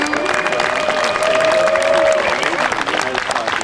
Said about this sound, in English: Let's have a big round of applause for Lieutenant Commander Thomas.